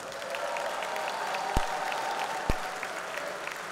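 A crowd at a fight night applauds a female fighter's introduction, steady sustained clapping with two sharp thumps cutting through it.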